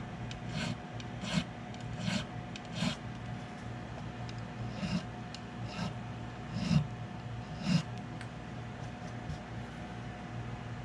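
A metal file rasping across the corners of guitar frets: short, scratchy strokes repeated in an irregular rhythm, close and fairly quiet over a low steady hum.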